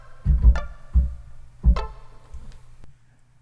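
A synth plays three short, low plucked notes with bright harmonic tails, spaced about half a second to a second apart, followed by softer decaying tones.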